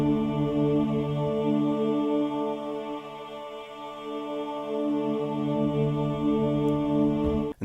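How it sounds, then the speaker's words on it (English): A sustained, harmonically rich synthesizer tone from Omnisphere 2 runs through a high-pass filter, holding steady at moderate loudness with a slight dip and swell midway before cutting off abruptly at the end. "Another common type of filter is what's called a high-pass filter,"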